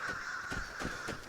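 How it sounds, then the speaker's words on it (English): Crows caw in the outdoor environment of the video game Vigor, several harsh repeated calls at an even rhythm over a steady ambient hum. "But, there's crows."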